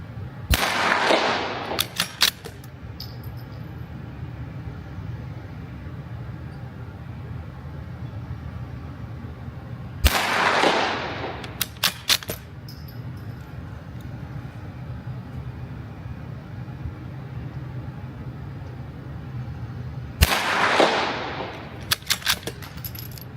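Three loud rifle shots fired with Aguila Super Extra High Velocity ammunition at a 100-yard target, spaced about ten seconds apart, each a sharp crack followed by brief metallic clicks of the action.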